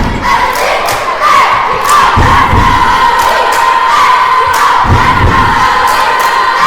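A cheer team chants loudly and rhythmically at a girls' high school basketball game, backed by a roaring gym crowd, with heavy stomps or thuds landing every couple of seconds.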